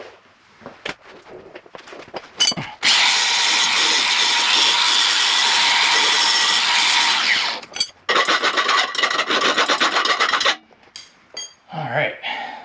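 Saw fitted with a Bosch Torch blade, made in the USA, cutting a stainless steel exhaust on a Golf R; loud, close, sustained rasping cut lasting several seconds, a brief pause, then a second long cutting stretch, with scattered knocks before and after.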